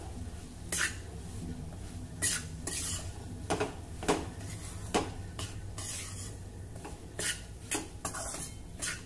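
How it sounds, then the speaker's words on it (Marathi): Semolina roasts in hot ghee over a low flame while a spoon stirs it round a metal pan, repeated clinks and scrapes over a soft steady sizzle, close by, without speech. "तूप गरम झालं की त्यामध्ये रवा घालूया आणि अगदी मंद गॅसवर आता आपल्याला हा रवा खरपूस भाजायचा आहे"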